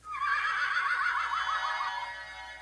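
A unicorn from a Don't Tickle the Unicorn sound book gives a single electronic neigh, a bright, wavering whinny lasting about two seconds, close and clear with nothing else heard.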